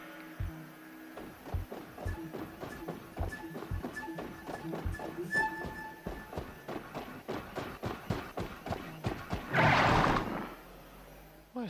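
Horse hooves clip-clop in a steady walking rhythm in the video game Horizon Zero Dawn, close and clear under a faint musical tone, ending in a short, bright burst near the end; no talk over it.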